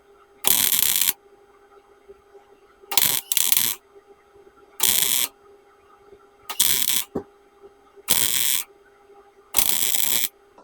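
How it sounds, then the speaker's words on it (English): A clamp ratcheting tight on the firewall of a 1936 Chevy truck hotrod: six or seven sharp bursts of clicking, each under a second, spaced a second or two apart, close and loud over a quiet steady hum. "I'm going to clamp in here and get that a little bit tighter"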